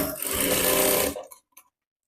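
Close sewing machine stitching a waistband strip onto a blouse, a steady loud mechanical whir for about a second before it stops, followed by two faint small clicks.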